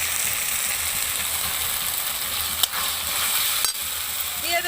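Spice paste of ginger, garlic, cumin, coriander and dry chilli sautéing in oil in a pan for jackfruit curry, a steady close sizzle with two sharp utensil clinks scraping through it, no talk.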